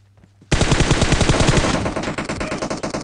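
Gunfire in the mobile battle-royale game PUBG Mobile: after a short quiet lead-in, a loud, close burst of rapid automatic fire starts suddenly and rattles on steadily to the end.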